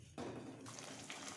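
Water poured into tomato gravy simmering in a pan for paneer masala, a steady close splashing pour lasting about a second and a half after a brief quiet start.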